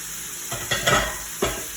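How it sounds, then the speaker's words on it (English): Cooked ground beef is scraped out of a hot pan for Cincinnati chili: three or four quick, close metal scrapes over a soft background sizzle. "Scrape out any that were left in the pan."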